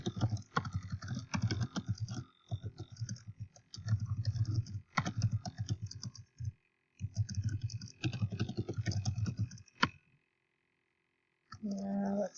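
Typing an email title on a computer keyboard: rapid clusters of close, crisp key clicks with short pauses, then a longer gap of near silence before a few more sounds.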